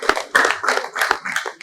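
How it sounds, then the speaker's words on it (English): Audience at a training wrap-up event for 30 women in Banjul, Gambia, gives a brief round of clapping, a short uneven burst of nearby hand claps. "I'd like another round of applause for these women for the commitment they've had"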